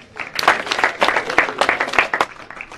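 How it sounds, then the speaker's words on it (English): An event audience claps during a blessing and building-opening Mass in Kangemi, giving brief, uneven bursts of hand claps that last a few seconds. "Clap for that."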